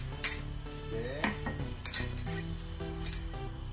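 A spoon clinks and scrapes against a metal pot while chicken adobo with annatto oil is stirred, with a few sharp metallic taps among a steady low cooking hum, close and moderately loud.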